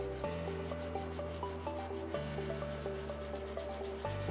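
A small 3D-printed HO scale pallet is wet-sanded by hand, making rhythmic back-and-forth rubbing strokes close by over a steady droning hum.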